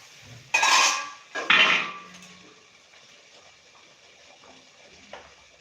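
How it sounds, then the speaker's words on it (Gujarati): A metal lid is lifted off a steaming dhokla pot, giving two quick clanks and rattles close by, then a quiet hiss and faint clinks fading out. "હવે આપણે ઢાંકણ ખોલી અને બે મિનિટ આપણે જોઈ લઈએ"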